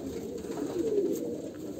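Ringed home-bred pet pigeons give a steady, close, low cooing that swells and rolls on without pause, with no talking over it.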